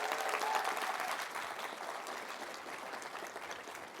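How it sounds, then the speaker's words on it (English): Sustained audience applause fills a university convocation hall, a dense steady wash of many hands clapping at once that fades slightly toward the end. "Let's give that a big round of applause."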